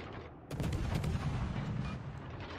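Ship guns fire in World of Warships Legends, the Allen M. Sumner destroyer in battle, a loud booming barrage that starts abruptly and then rumbles on steadily with dense overlapping shots, no voices.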